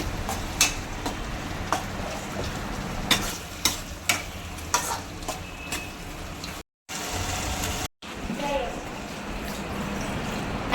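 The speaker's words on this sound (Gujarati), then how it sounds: "ટમેટા નખાઈ ગયા હવે હલાવે છે" Tomatoes being stirred in a pan while making potato poha, with repeated scraping clacks of a spoon over a soft sizzle, interrupted by two short silent gaps.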